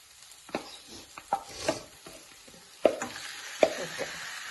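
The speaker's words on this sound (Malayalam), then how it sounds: "നമുക്ക് ഇതിലേക്ക് ചിക്കൻ ഇട്ട് കൊടുക്കാം" Chicken pieces dropped into a hot pan of curry base and frying, with a soft sizzle underneath and scattered sharp taps and scrapes of a spoon against the pan, close up and without talk.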